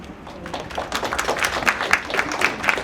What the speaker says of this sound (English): Thank you, Tony, for starting that round of applause.